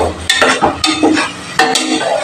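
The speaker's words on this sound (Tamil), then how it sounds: "வச்ச அந்த பேஸ்ட்டை நல்லா போட்டு நல்லா கிளறி கொடுத்துடணும்" Biryani masala paste sizzles steadily in a pan while a spoon stirs and scrapes through it in several quick, close strokes, with no talking.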